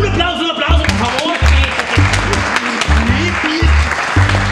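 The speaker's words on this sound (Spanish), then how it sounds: "¡Un aplauso, por favor!" Applause in a telenovela scene, mixed clapping under loud overlapping voices and background music, fairly close and continuous.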